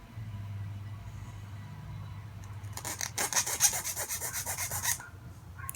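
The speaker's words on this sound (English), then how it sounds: "Now I'm just shaving off the little edge just to get rid of it." The edge of a printed circuit board is shaved down by hand, with a low hum first and then a burst of rapid, rasping scraping strokes, close and rhythmic, lasting a couple of seconds.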